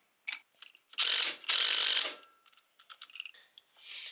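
A socket wrench ratchets as it loosens a tie rod adjusting collar on a C20 truck, with close, sharp clicking in short bursts and two longer, louder runs of rapid ratcheting.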